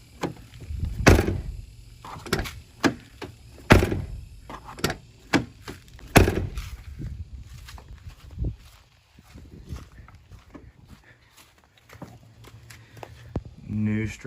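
A Ford Excursion door fitted with its old striker is shut repeatedly, giving loud clunks and rattling knocks at irregular intervals, with footsteps and handling noise in between.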